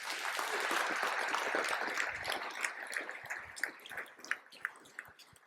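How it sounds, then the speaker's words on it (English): An audience at a talk on the Māori Crown partnership breaks into sustained applause. It sounds like a roomful of steady clapping that slowly thins out, leaving a few scattered claps near the end. "A round of applause"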